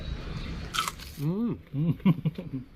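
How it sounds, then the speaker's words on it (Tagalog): Crunchy fried food like chicharon is bitten with a sharp crisp snap, followed by chewing while a voice talks over it, all close to the microphone. "Malutong parang chicharon."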